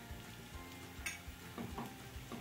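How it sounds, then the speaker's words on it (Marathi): Tomato stuffing mixture sautéing in a pan, a soft steady sizzle with a few scraping stirs, close and low in level, with no talking. "व्यवस्थित मिक्स करून घेऊया आणि 1 मिनिटभर परतून घेऊया"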